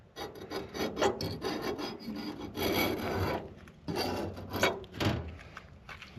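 A razor blade scrapes caked-on junk from a Wagner Ware cast iron skillet in uneven rasping strokes, close and steady, some strokes longer and harder than others, with no talking.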